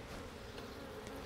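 Honey bees buzzing on a drone-comb hive frame in a whiskey barrel hive, a dense, steady, close hum filling the whole moment without a break.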